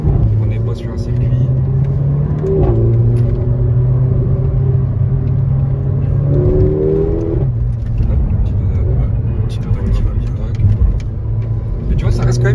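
A 381 hp Mercedes A45 AMG accelerates along a country road, heard from inside as a loud engine drone that rises in pitch through the gears, while people talk over it.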